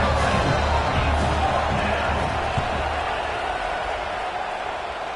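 A stadium crowd roars steadily at a college football game in EA College Football 26, a broad, sustained wash of cheering that holds through the whole stretch with no clear breaks.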